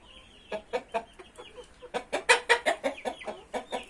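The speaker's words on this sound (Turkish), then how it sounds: "Burada horoz ve tavuklar var." Hens and a rooster at a village coop cluck in a rapid, rhythmic series of close, sharp calls, growing louder and busier partway through, with no talking.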